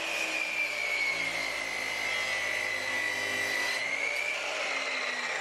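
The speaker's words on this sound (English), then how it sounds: "I'm going to use the miter saw to cut 8 of these." A miter saw cuts 45-degree corner braces for a DIY playhouse platform, a loud steady whining blade under load running continuously for several seconds, close by with no talking.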